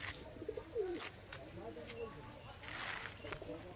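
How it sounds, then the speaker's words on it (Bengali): A male Kaldum pigeon gives a few soft, faint throaty coos in a loft, brief and intermittent against quiet background noise, with low voices nearby. "প্রথমেই তোমাদের এই নর পায়রাটা দেখাই"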